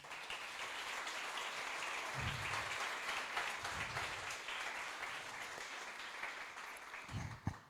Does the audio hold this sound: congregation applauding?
yes